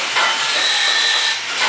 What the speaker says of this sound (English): using a portable grinder to clean all the excess well